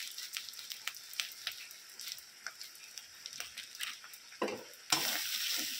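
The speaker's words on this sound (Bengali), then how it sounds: "মশলাটা আমি খুব ভালো করে কষিয়ে নিয়েছি। এর মধ্যে দিয়ে দিচ্ছি পরিমাণ মতো হলুদ গুঁড়ো আর লাল লঙ্কার গুঁড়ো" Chicken masala fries in a pan with turmeric and red chili powder, a soft steady sizzle broken by stirring scrapes, with a louder burst of sizzling near the end.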